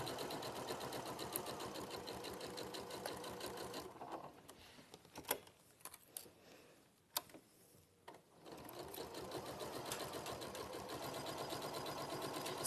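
A sewing machine set to its longest stitch length runs in fast steady rapid-fire stitching, pausing for a few seconds with scattered clicks before resuming at full speed.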